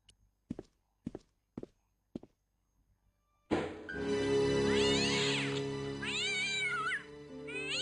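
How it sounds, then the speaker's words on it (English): Several footsteps tap sparsely, then a cat trapped inside a trash bin in the video game Broken Sword meows loudly and insistently, with drawn-out, wavering cries over a sustained background tone. "What's the cat doing in there?"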